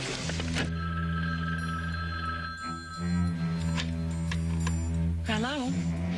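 Old-style telephone bell ringing in an office during a 1974 TV drama scene, a steady loud ring over low background hum with other sounds layered in.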